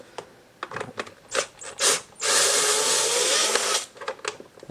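Phillips screwdriver backing out plastic thread-cutting screws on a 2017-or-later Kawasaki Z900 during a fender eliminator install, with a few clicks and taps around a sustained grinding whir in the middle, close and moderately loud.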